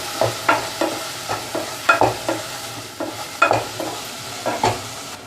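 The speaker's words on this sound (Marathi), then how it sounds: "आलं लसूण झालेलं आहे परतून" Grated ginger and garlic sautéed in a pan: repeated scraping strokes of a spoon stirring the mixture, sharp rhythmic scrapes about twice a second over a low sizzle, close and alone.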